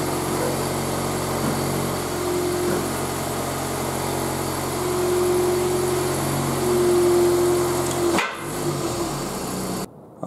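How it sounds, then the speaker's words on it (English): A Scion xB's engine runs steadily and loudly up close as the car creeps up wooden ramps, a constant droning hum that shifts slightly in pitch and then cuts off abruptly near the end. "But I can drive it the rest of the way up."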